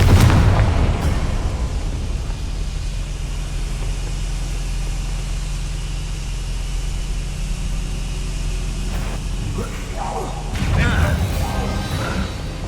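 Confringo spell blasts in Hogwarts Legacy, a heavy booming explosion at the start that fades into a long rumbling tail, then another burst of impact noise near the end.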